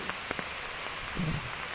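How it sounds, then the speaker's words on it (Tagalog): Steady, intensifying heavy rain hisses on a surface at moderate loudness in Bulacan, with a few louder drips and a low rumble near the end. "palakas na palakas ang ulan"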